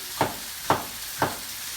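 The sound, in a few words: peppers being stir-fried in a sizzling pan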